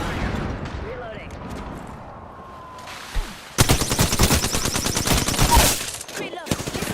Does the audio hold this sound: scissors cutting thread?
no